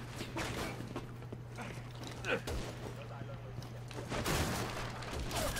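Sniper fire in Resident Evil 6 cracks out amid scattered battle noise, with a few distinct sharp shots standing out over a low steady hum and some talking.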